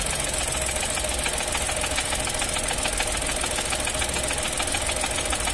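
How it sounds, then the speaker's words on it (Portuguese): Continuous idling engine noise with a knocking, rattling texture from a 2023 Chevrolet Onix fitted with a helper clutch, heard up close and steady while the clutch pedal is pressed and released, with no clear change audible. "Eu tô apertando e soltando, ó. Apertei, soltei."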